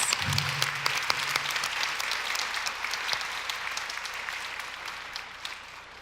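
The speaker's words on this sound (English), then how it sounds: "Let's give our dignitaries a round of applause." Steady applause from an audience at a community gathering honouring local and national elected officials, a dense wash of many clapping hands that holds for several seconds and slowly fades, with a brief low voice near the start.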